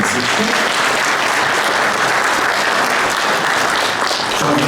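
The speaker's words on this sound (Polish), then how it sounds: "Podziękujmy panu prezydentowi oklaskami" An audience applauds Olsztyn mayor Piotr Grzymowicz at a gala marking 65 years of honorary blood donation in Olsztyn; loud, dense, continuous clapping from a full hall.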